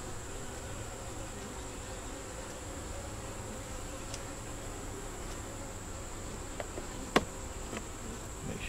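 Honey bees buzz around hive frames while the frames are fitted back together, a steady close-range hum with a few brief sharper ticks near the end.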